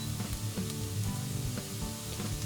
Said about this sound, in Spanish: Removemos bien, que se tosten un poquitín para que liberen los aromas y los sabores.